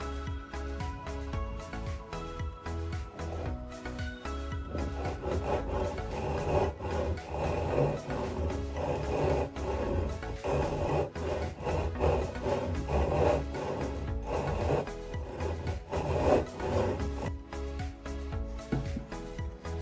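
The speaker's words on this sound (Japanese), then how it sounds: "動く顎を作るためにノコギリで切り離します" A hand saw rasps steadily through wood in continuous back-and-forth strokes, cutting the jaw free on a carved wooden Japanese dragon mask, close and fairly loud, with no talking.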